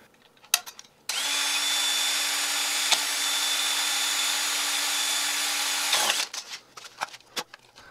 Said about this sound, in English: Here I'm drilling a hole to make it easier to access